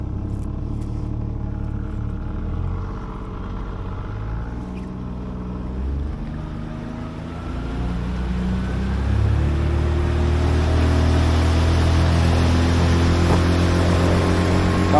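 A small jon boat's tiller outboard engine runs steadily, a low droning hum that builds louder over the last few seconds as the throttle opens, with wind and water noise around it.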